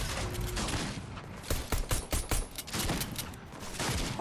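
Rapid bursts of gunfire from the video game Fortnite crackle across the whole stretch, dense and loud with several sharper shots clustered in the middle, no voices over it.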